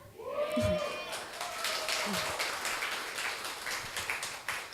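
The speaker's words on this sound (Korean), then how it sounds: "다시 박수를 쳐버리셔서 다시 인사드리겠습니다" Audience clapping at a concert-style talk event fills the hall as steady, moderately loud applause, with a voice speaking briefly over the start.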